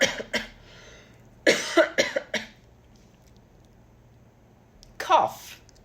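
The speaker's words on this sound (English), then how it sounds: "Cough." A person coughs in a few separate bursts, close and clear, with short pauses and near silence between them.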